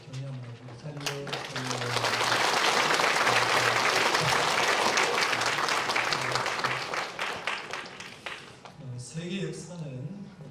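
A church congregation in Daegu applauds newlyweds during a Sunday service, a sustained burst of loud applause that swells, holds for several seconds and fades back into a speaking voice.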